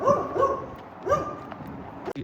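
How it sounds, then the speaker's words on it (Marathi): A dog barks at passersby on a street in Porto, Portugal, a few sharp, close barks and yips in short bursts over faint street ambience. "समोरचा कुत्रा आमच्यावर भुंकत आहे."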